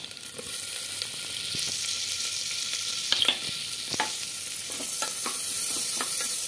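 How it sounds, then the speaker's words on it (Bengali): Chopped onion and ginger fry in a pan with a steady, close sizzle, broken by several sharp scraping taps of a spatula stirring the pieces; no voices. "দিয়ে একটু হালকা ভেজে নেব। পেঁয়াজটা হালকা ভাজা হয়ে এসছে।"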